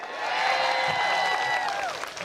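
A large crowd at a statue unveiling ceremony for Dawn Staley claps and cheers loudly and steadily, a dense wash of applause with whoops and whistles that swells, holds, and tapers off near the end.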